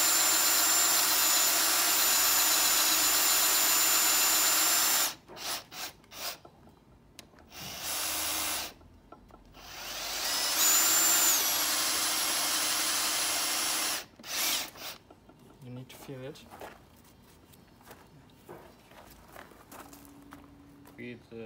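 A FAMAG wood drill bit bores into wood with a power drill set to first gear, low speed, its steady loud whine running about five seconds, then a second burst after a pause, with short scraping and handling noises between.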